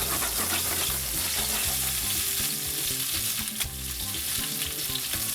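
Duck breast fries in its rendered fat with two cloves of garlic and a sprig of thyme, giving a loud, continuous sizzle and crackle with occasional stirring, no voices.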